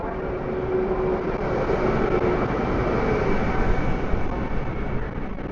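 A train rumbles at a railway station platform in a steady, broad roar that holds at the same level throughout.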